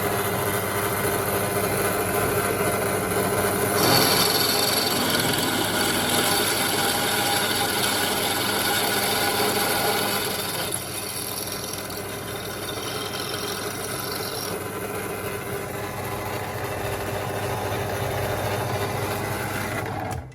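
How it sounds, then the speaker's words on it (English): A power drill whirring steadily for a long stretch through thick material on a Honda Civic turbo build, the pitch rising as the bit bites in and easing off later, with machinery hum beneath. "Drilling's never been so easy."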